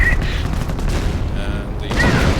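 Heavy 25-pounder artillery and gunfire in a WWII strategy video game, a dense continuous barrage of booms and shots rumbling loudly throughout, with a commentator talking over it.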